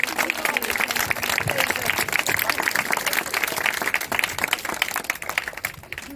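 A school crowd at a tree festival in Favara claps loudly and continuously, many hands in a dense burst that runs throughout and fades slightly near the end, with a few voices mixed in.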